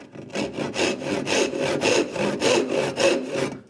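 A hand saw cuts oak for a wedged mortise and tenon joint, with loud, close, rhythmic rasping strokes, roughly two per second, each rising and falling evenly.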